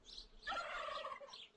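A turkey gobbles once, a rapid warbling burst lasting about a second, close and clear.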